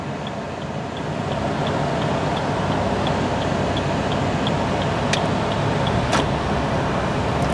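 A car moving off in first gear from a standstill after signalling right, its engine and tyre noise a steady broad rumble, with a faint regular ticking from the indicator throughout and two brief sharp clicks near the end.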